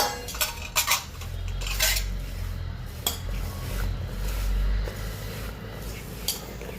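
A spoon stirs ground spice powders, coriander and chili, in a metal pot for pickle, giving close scraping and clinking knocks against the pot in an uneven rhythm.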